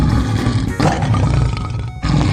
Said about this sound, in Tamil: சிங்கத்தின் கர்ஜனை மிகவும் சக்தி வாய்ந்தது.